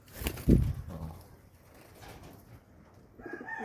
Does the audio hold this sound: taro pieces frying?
no